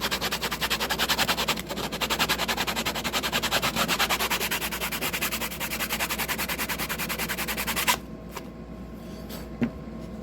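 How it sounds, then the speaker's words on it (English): Sanding block rubbed back and forth on a model truck part, a rapid, rhythmic scratchy rasp that continues steadily for about eight seconds, then stops and leaves faint handling noises. "I'm going to take this sanding block"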